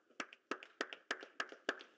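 Hands clapping in a steady rhythm, six sharp claps about a third of a second apart, close and fairly quiet, with no talking.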